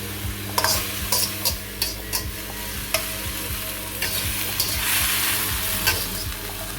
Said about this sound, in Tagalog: You stir fry everything for a while na mix mo talaga.